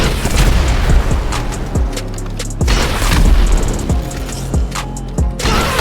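Repeated booming blasts as a van is blown up with explosives and grenades in GTA Online, several heavy detonations landing over a loud, continuous roar of game action and gunfire.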